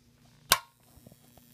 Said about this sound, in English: As you can hear the igniter,